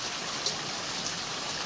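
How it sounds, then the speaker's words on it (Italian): Hail falling in spring, a steady dense hiss of pellets striking surfaces, even and continuous throughout with no voices. "Yeah, hail. Ah, hail, yes."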